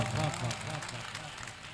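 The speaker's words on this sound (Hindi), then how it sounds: "ताली बजाइए।" An audience applauds at an All India Mushaira poetry gathering in Fatehpur Sikri. A short, moderate burst of clapping quickly fades, with a voice heard over it.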